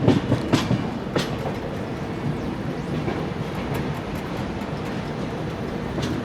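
A Garib Rath Express rolling along the rails, heard from inside an AC economy coach: a continuous rumbling roar with a few sharp clacks near the start, fairly loud and steady throughout.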